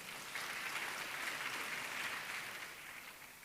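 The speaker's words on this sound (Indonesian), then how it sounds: "Mari kita mau kasih tepuk tangan dulu buat Tuhan Yesus" A church congregation claps together during a Sunday service, a steady wash of applause that holds evenly and eases off slightly toward the end, with no talking over it.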